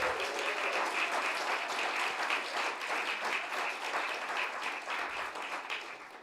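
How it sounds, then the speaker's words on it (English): An audience at a Poetry Out Loud county finals applauds the poetry recitation contestants with steady, sustained clapping that fills the room and tapers slightly at the end. "Let's give them a round of applause to encourage them."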